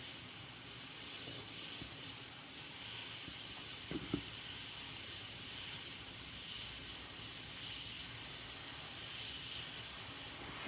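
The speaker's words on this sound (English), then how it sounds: "I'm using the Iwata Clips HPCS. Nothing short of the best airbrush I've ever used." An Iwata HP-CS airbrush, powder coated special edition, spraying paint with a steady, continuous airy hiss throughout, close to the microphone and even in level, with a couple of faint knocks underneath.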